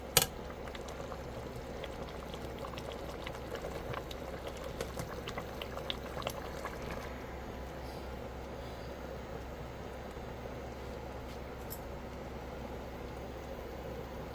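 A pot of sotanghon noodles with snow peas and lean pork simmers in chicken broth, giving a soft, continuous bubbling hiss that stays steady and close throughout with no talking.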